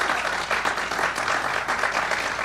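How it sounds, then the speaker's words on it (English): An audience at an outdoor sickle cell awareness illumination ceremony gives a steady round of applause, dense clapping throughout, no voices over it. "please extend another round of applause for all of the caregivers, folks in the medical profession"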